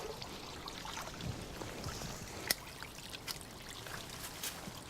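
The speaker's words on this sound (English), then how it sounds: "The water is a major feature in the garden." Water trickling and pouring in a tiered garden water feature, a faint, steady splashing wash with a few small brighter drips, heard alone without talk.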